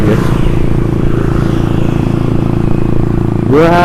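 A Yamaha Byson motorcycle with a racing exhaust idles loudly and steadily up close, then revs up in a quick rising burst at the end.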